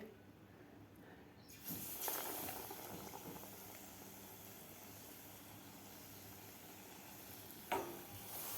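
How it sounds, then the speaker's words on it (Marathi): Potato-stuffed chili pakoras sizzle steadily in hot oil, a dense close hiss that swells sharply around a fresh batch and flares again near the end, with no talking. "दुसरी सुद्धा बॅच आपण अशा प्रकारे तळून घ्यायची आहे"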